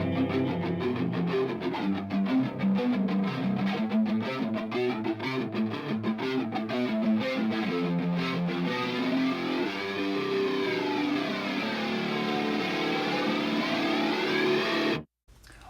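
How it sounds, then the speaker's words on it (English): Stereo electric guitars with heavy distortion and a sweeping phaser effect play through a dense, loud progressive metal arrangement, sustained throughout before cutting off abruptly near the end. "a set of stereo guitars comes in with distortion and a"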